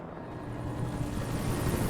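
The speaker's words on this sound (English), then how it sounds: "Oh, they brought in the helicopters." A short burst of helicopter rotor noise from the game Alan Wake, a dense low whirring drone that swells slightly louder toward the end, with no talking.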